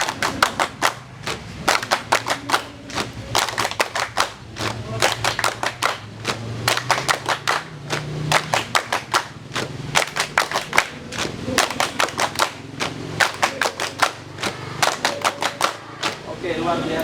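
A long run of rapid group hand clapping in repeated rhythmic bursts, loud and close, sustained through an ice-breaker clapping game with a faint voice now and then beneath the claps.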